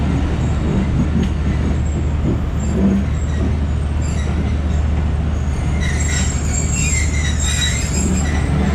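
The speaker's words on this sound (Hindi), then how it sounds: "शालीमार एक्सप्रेस के डिपार्चर का खूबसूरत मंजर।" The Shalimar Express passenger train pulls out of Faisalabad station with a steady low rumble of wheels on track, while high metallic wheel squeals rise toward the end, heard close from another train.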